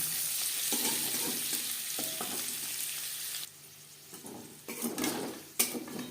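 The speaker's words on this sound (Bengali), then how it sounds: "হালকা করে ভেজে নেব পনির" Paneer sizzles steadily as it lightly fries in a hot pan while a utensil scrapes and clinks against the metal now and then.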